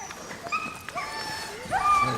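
Sled dogs whimper, yip and bark in excited bursts before a dogsled run in Minnesota, a rising whine swelling louder near the end while people talk nearby.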